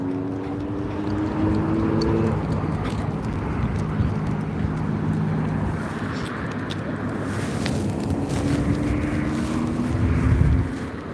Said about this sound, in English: There's that specific sound and the specific smell of a 2-stroke engine.